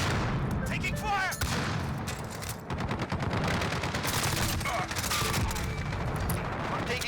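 Dense rapid gunfire rattles through a Search and Destroy match in a first-person shooter, with sustained bursts and overlapping shots from an MP5-style weapon. The firing is continuous, loud and close, with brief explosive booms and a voice speaking over it.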